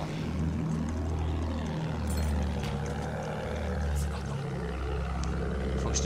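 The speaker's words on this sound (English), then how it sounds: "Plane!" Propeller aircraft in the Battlefield 1 video game droning loudly and continuously overhead, its engine pitch rising and falling as it sweeps past amid constant battle noise.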